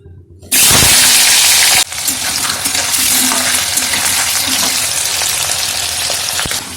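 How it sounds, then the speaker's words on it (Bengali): Potatoes fry loudly in hot mustard oil, a dense continuous sizzle that bursts in sharply at first and then settles into a steady crackle. "আলু লাল লাল করে ভালো করে ভেজে নিয়েছি"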